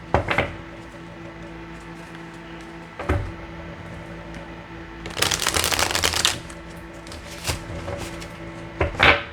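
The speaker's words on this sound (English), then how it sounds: "I'm trying to shuffle with these nails" Tarot cards being shuffled by hand, the cards riffled in several crisp bursts, including one longer flurry, separated by quiet pauses and light handling taps, close up with no talking.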